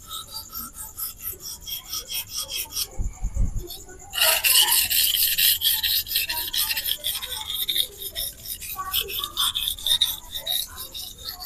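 A Victorinox knife blade drawn across a coarse King 300 grit whetstone, giving steady close rasping strokes that are lighter at first and then turn loud and continuous for most of the clip.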